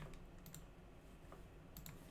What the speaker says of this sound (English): Gonna hit 2 on the keyboard